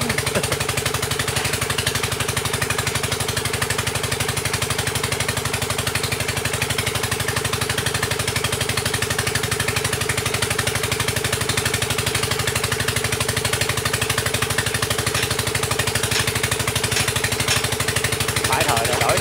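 A water-well drilling rig's engine runs loud and continuous, a steady droning hum with a rapid mechanical chatter throughout, and someone talks over it.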